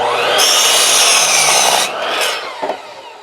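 A hand saw cuts through wood in loud, close strokes, a harsh rasping grind that holds for a couple of seconds, then eases into lighter scraping before stopping with a few small knocks.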